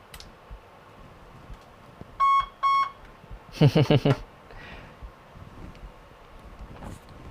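A 3D printer signals a finished print with two short electronic beeps, clear and fairly close, followed by a faster burst of rapid chirping tones over a quiet room hiss.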